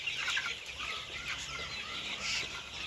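Broiler chickens cluck and chatter softly and steadily nearby, a continuous fowl murmur with no talking.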